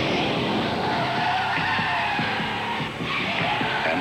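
A BMW 528e brakes hard on its anti-lock brakes, and its tires skid and squeal in a loud, continuous screech lasting several seconds.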